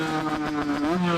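A Kawasaki Ninja two-stroke motorcycle with a slightly wet engine revs steadily and loudly up close, its buzzing tone climbing in pitch toward the end.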